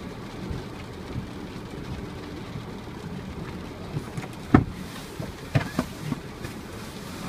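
Hail and rain drum on the roof and body of a Suzuki Vitara ALLGRIP during a storm, a steady hiss with a few sharper, louder hits near the end, heard from inside the car.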